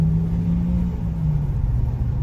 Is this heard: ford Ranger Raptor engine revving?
yes